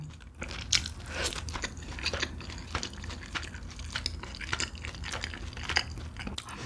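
Spicy meat dumplings are bitten and chewed close to the microphone, with repeated soft crunches and wet chewing sounds in a steady rhythm, no talking.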